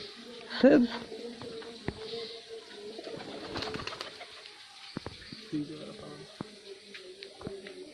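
A green-eyed Kalduma pigeon coos briefly near the start, followed by scattered clicks and clatter while people talk in the background.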